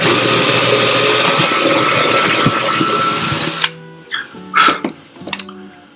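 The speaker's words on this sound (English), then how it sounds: "I'm going to drill through the top" A power drill bores through an acoustic guitar top while fitting the bridge, a loud continuous whir of about three and a half seconds that stops abruptly, followed by a few brief, softer workshop sounds.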